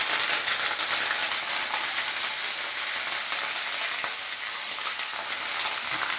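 Curry leaves and garlic cloves frying in hot oil, giving a dense, steady, close sizzle that crackles evenly throughout with no voices.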